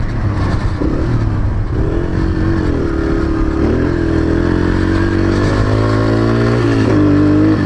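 A Yamaha TTR 125 dirt bike, regeared one tooth up on the countershaft sprocket, runs loud and close. Its engine drones and revs unevenly with a rattly clatter, rising and dipping in pitch throughout and heard alone without voices.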